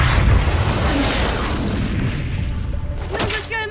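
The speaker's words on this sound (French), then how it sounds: "Dégagez avant qu'il explose." A loud, rumbling explosion in Call of Duty: Infinite Warfare during an assault on a platform, a deep boom decaying into a long low roar, with brief electronic tones near the end.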